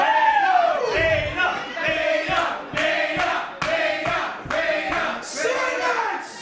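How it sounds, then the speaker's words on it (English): A large indoor crowd at a CCW professional wrestling match chants in unison at wrestler Greek God Papadon, rhythmic repeated shouts rising and falling loudly, with a regular beat between each call. "The crowd getting into the head of the Greek god Papadon."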